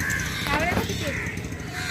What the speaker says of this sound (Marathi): इथे खूप सारे कावळे वगैरे आहेत